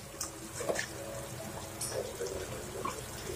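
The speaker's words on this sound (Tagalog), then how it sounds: "Ngayon, i-add na natin yung ating kakanggata." Coconut cream pours into a pot of simmering malunggay leaves and fruit with dried squid, a soft liquid splashing and trickling that comes in small bursts, fairly quiet.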